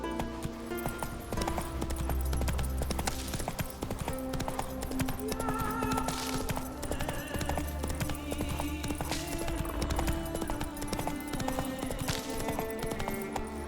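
Roach, the horse in The Witcher 3 Next-Gen Edition, clip-clops steadily with continuous hoofbeats over a long stretch, set among game music and ambience, with a brief whinny-like tone.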